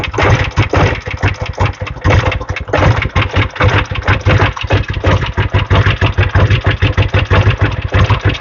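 A small engine, started for the first time with an uncleaned carburetor, runs roughly and unevenly, a loud ragged chugging with uneven pulses that stumble and surge throughout.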